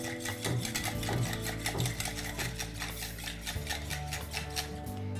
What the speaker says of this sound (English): And now I'm going to beat this with this whisk